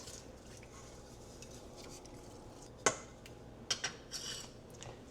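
Bone broth ingredients with salt and apple cider vinegar stirred in a pot, a few sharp clinks and light scrapes of the spoon against the pot over a low steady background, quiet and close.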